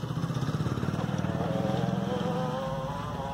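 A home-made 12 volt e-bike motor drives a bicycle with no pedalling, giving a close, pulsing mechanical drone with a rapid, even throb that holds steady throughout.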